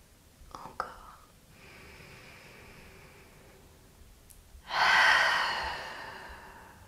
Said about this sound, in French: On inspire par le nez, expire par la bouche.